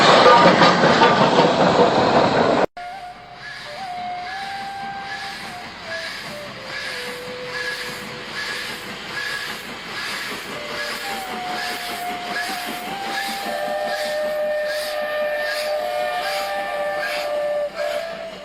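A steam train on a South Central Railway metre gauge line gives a loud blast of steam hiss, then a long, wavering steam whistle sounds over the steady rhythmic chuff of the working locomotive, fairly near and without talk.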